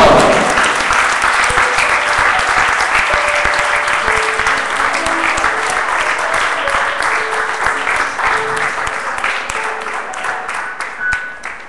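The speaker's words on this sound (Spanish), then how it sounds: "¿Cuánto puede dar un fuerte aplauso al Señor?" A church congregation gives strong, sustained applause throughout, dense and steady with a faint tonal hum underneath and no clear talk over it.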